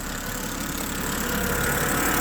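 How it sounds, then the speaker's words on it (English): A damaged BMW E90 car engine with a large oil leak idles steadily, a low continuous rumble with a faint uneven pulse, heard up close with no voices. "it appears as though it's idling by itself now"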